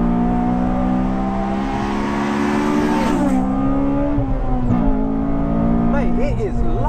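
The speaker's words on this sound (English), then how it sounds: "It's just like revving for days, isn't it?" A Honda Civic Type R FD2 engine revs hard and holds high rpm on the road, loud and close from inside the car, with a rising and falling tone. Voices murmur faintly underneath.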